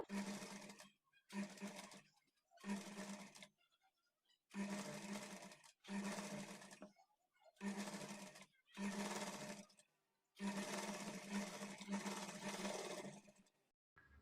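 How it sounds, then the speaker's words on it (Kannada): A sewing machine runs a blouse side seam in a series of short, loud bursts of rapid stitching, separated by brief pauses, with a longer run near the end. "ಸ್ವಲ್ಪ ಸ್ವಲ್ಪ ಸ್ಟಿಚ್ ಮಾಡಿಕೊಂಡು ಈ ಥರ ತಿರುಗಿಸ್ಕೊಳ್ತಾ ಸ್ಟಿಚ್ ಮಾಡ್ಕೊಳ್ಬೇಕು"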